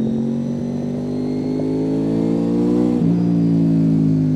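Honda 800cc V4 sports-touring motorcycle engine running steadily up close, a lumpy, even drone that gradually climbs in revs, dips briefly near the three-second mark, then holds at a slightly higher, louder pitch.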